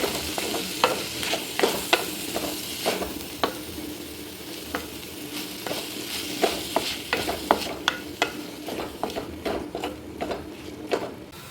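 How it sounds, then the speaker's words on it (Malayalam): Sliced onions sauté in hot oil with curry leaves in a pan for ghee rice and egg curry, a steady soft sizzle broken by repeated scraping stirs of a spoon at an uneven rhythm. "ഇനി ഇതിലേക്ക് സവാള ഇട്ട് കൊടുക്കാം. ഇനി ഇതൊന്ന് നന്നായിട്ട് വഴറ്റിയെടുക്കാം."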